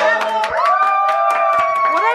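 Several people cheer and shout together at a baby shower with scattered hand claps, voices overlapping loudly and close by.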